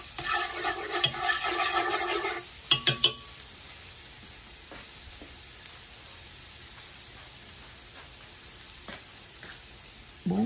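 Marinated beef being stir-fried in a large pot for a braised beef and pâté dish: a burst of utensil clatter and scraping for about three seconds, then a low, steady sizzle.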